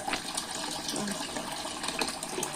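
Tap water runs steadily into an emptied milk container at a kitchen sink, a continuous close gushing and filling sound with no talking.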